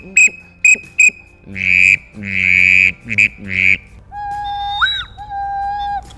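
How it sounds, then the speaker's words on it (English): A 6-in-1 duck call whistle is blown in short, sharp whistled peeps, then longer held tones and warbling notes, loud and close, with no one speaking. "I love the 6-in-1 whistle."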